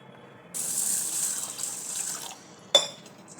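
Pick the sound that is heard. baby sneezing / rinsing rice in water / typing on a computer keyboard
rinsing rice in water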